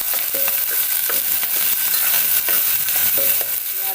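Onions frying in a pan for a home-style chicken dish, with a steady close sizzle throughout and repeated scraping stir strokes of a spoon against the pan, fairly loud and with no talking.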